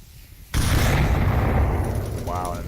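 A grenade goes off in the Onward VR shooter: silence, then a sudden loud blast that rumbles and sustains for about two seconds, with a brief electronic chirp near the end.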